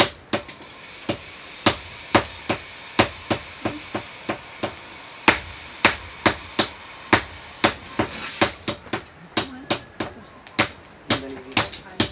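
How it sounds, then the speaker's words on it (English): A blacksmith pounds a hot metal bar on a block, with a steady run of loud, ringing hammer strikes roughly every half second over workshop noise, while people talk faintly in the background. "every time he whacks, the tip bends"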